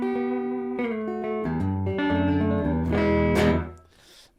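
Clean electric guitar through the UAD Showtime 64 tube amp plugin, with no reverb, playing a short run of ringing notes and chords, bright and chiming, with the last chord fading out.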